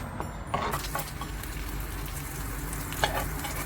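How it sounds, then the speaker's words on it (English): A vegetable bun fries in butter in a pan, giving a steady sizzling hiss with a few soft stirring taps and clicks, moderately close and without talk. "We again fry it with the butter"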